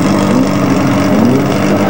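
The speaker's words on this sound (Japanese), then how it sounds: "そしてうるさいと注意されたマフラー" Loud, continuous engine rumble from a Toyota AE86 with a 4A-G engine, a deep droning exhaust note through its loud muffler, steady and close throughout.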